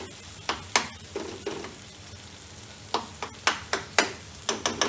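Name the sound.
spices frying and sizzling in a pan on the gas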